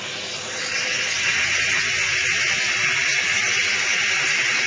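An ECOsmarte municipal point-of-entry water filter system in backwash mode gives a steady, close rush of hissing water that swells after the first second and then holds even with no pauses.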